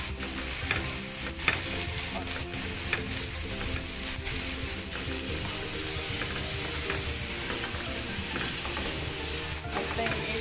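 Pork fries in a hot pan for a Namtok dish, giving a loud, continuous sizzle with occasional stirring scrapes and clicks, steady and close throughout.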